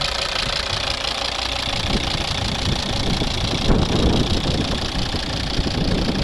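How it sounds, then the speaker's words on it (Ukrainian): A 2013 Volvo V60 R-Design 2.4 D5 diesel engine runs steadily, a constant low rumble with faint knocking texture, loud and close, with no voices. "Ось робота двигуна."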